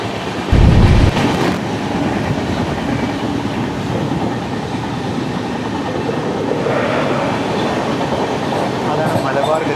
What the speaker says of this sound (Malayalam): അതാണ് മലബാർ ഗതിമാൻ എന്ന അപരനാമത്തിൽ അറിയപ്പെടുന്ന കോയമ്പത്തൂർ മംഗളൂരു ഇന്റർസിറ്റി എക്സ്പ്രസ്.